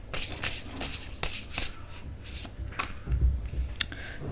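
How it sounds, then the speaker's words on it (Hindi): Tarot cards are shuffled and pulled from the deck, giving a close series of quick papery riffles, slides and flicks with no talk over them. "ठीक है, कुछ कार्ड्स और पुल कर लेते हैं"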